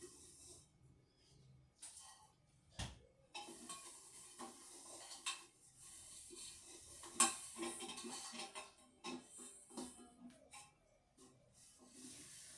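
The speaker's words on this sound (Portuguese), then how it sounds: "Lavando minha chaleira da internet pela primeira vez." A newly bought kettle being washed at a sink, with scattered metallic clinks, knocks and clatter of handling amid a soft background wash of running water, fairly close and irregular.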